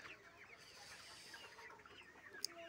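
Layer hens kept in a bamboo cage, around 1100 birds, cluck in short, irregular bursts that sound faint and a little distant.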